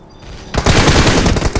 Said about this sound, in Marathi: त्याला मी दिसतोय तो मला गोळी मारतोय